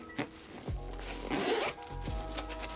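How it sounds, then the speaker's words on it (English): Mesh-lined packing cube inside a Wandrd Hexad Access duffel being unzipped, a quiet close zipper rasp in a few short pulls with soft handling noises around them. "they have 2 separate zippers. You can unzip right here."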